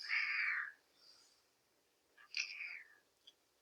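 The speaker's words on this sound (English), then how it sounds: "you guys aren't going to be sad that you don't have to hear my cat anymore" A pet cat meows twice indoors, a loud drawn-out cry followed by a shorter, higher call after a pause, close to the listener with no talk.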